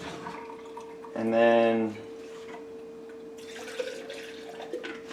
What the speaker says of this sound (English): screw it all the way on, shake it out, dump it,